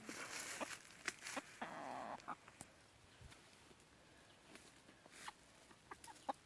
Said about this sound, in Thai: ได้ตัวแม่ไก่นะครับ